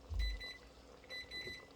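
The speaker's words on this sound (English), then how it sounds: "Timer's off." A kitchen timer goes off in a home kitchen while a Cajun jambalaya is being cooked, giving two short bursts of high electronic beeping that are faint and heard alone.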